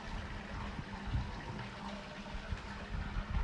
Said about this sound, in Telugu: ఇదిగోండి, నెంబర్ 3 రిన్స్లో కూడా మీకు ఇక్కడ వేస్ట్ వాటర్ అనేది వస్తుంది